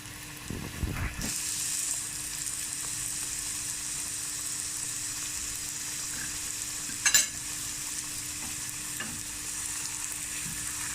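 Puri, a small rolled Indian bread, deep frying in hot oil: a steady, fairly soft sizzle and bubbling throughout, with a few brief clatters and splashes near the start and a short crackle midway.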